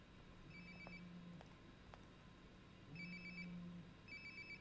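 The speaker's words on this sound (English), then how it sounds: "Sounds like my phone is definitely nearby." A phone rings repeatedly in the video game Life is Strange: Before the Storm, a steady electronic ringtone pulsing in three bursts against quiet background ambience, with no one speaking.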